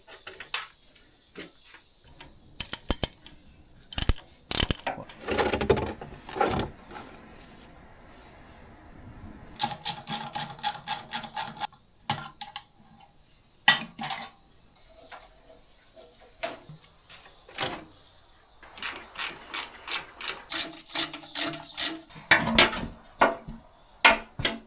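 Hand tools clink and knock in irregular bursts of sharp metallic taps while a Kubota B7100 tractor gearbox is stripped down, over a constant high insect-like hiss in the background.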